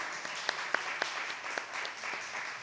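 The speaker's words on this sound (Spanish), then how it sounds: "Si quieren un aplauso, un aplauso, ¿verdad?" A small church congregation claps for a birthday, with light scattered claps and a few sharper slaps standing out, fairly quiet and steady throughout.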